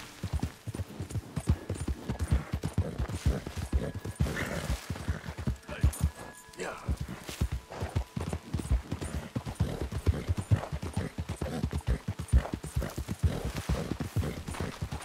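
Horse hooves pound in a steady rapid gallop rhythm in Red Dead Redemption 2, close and loud throughout, with a brief whinny partway through and faint voices underneath.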